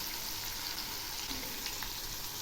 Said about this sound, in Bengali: এই চিংড়িগুলো আমি খুব একটা কড়া ভাজবো না, একটু হালকা করে ভেজে নেব।